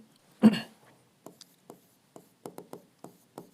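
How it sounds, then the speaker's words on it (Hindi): Pen or chalk taps and short scratches while writing out given values for a physics problem, a sparse series of brief strokes after one louder knock near the start. "तो पहले मैं गिवन पैरामीटर्स लिखता हूं।"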